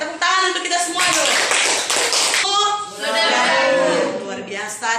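A secondary-school class in Indonesia claps together: a loud burst of group clapping under an energetic voice that rises and falls as it carries on speaking.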